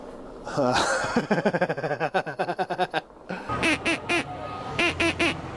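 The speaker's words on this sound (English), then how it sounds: "我对所有的小孩吹我的 Peking dog." A squeaky Peking dog toy horn on a bicycle is squeezed again and again in quick bursts of nasal, quacking honks, loud and close, with a short gap partway before more rapid honks.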